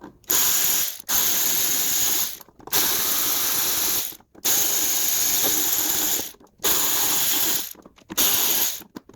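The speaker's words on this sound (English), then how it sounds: "Let's just remove these 4 screws to separate the solenoid from the valve." A ratchet spins out the four screws holding the solenoid to an Alfa Romeo EGR valve on a workbench, loud close clicking in five long bursts separated by brief pauses.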